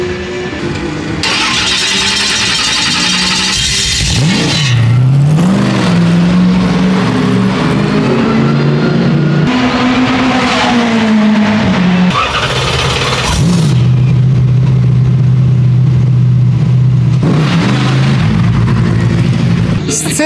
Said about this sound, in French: Une belle voiture, rapide, un moteur Honda 2 litres